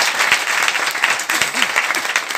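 An audience at a network marketing (RCM) seminar bursts into steady, dense clapping that fills the whole stretch at an even level, with no break and no clear voice.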